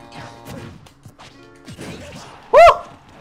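A smash attack lands in Super Smash Bros Wii U, a single loud, sharp crashing hit with a ringing tail that stands out over quieter game sounds and background effects.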